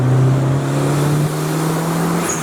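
A turbocharged Honda B16B car engine holds a loud, steady, close drone while spooling toward boost, with a faint high whistle rising near the end.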